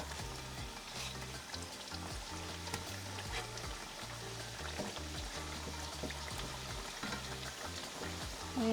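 A chicken or bean burrito fries in oil that is too hot, giving a steady, close crackling sizzle that runs throughout, with a rhythmic musical bass line underneath.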